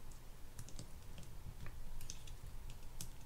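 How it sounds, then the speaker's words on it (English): Small clicks and ticks from prying a little retaining washer over its groove on a Lew's Mach Crush spinning fishing reel during disassembly, a scattered run of light, close taps over a low steady hum. "We're gonna have to click that up over the ridge that it's in"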